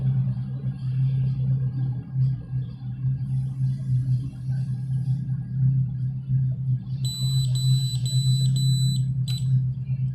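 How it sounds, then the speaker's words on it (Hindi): A Smart Lock S110b buzzes during a reset, giving a series of sharp, high electronic beeps in quick bursts over a steady low background hum. "इसको हम 6 सेकंड्स के लिए प्रेस करेंगे तो ये फिर एक बजर देगा,"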